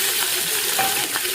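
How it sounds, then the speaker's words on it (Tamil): Small onions sautéing in hot oil in a home kitchen, a loud, dense, continuous sizzle heard up close, with faint stirring scrapes and no voices. "வெங்காயம் வதங்கிட்டு"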